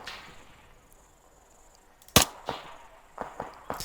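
Rifle fire in the Arma 3 military game: one sharp, loud shot stands out, followed by several fainter, scattered cracks in the distance over quiet ambient background, with no talk.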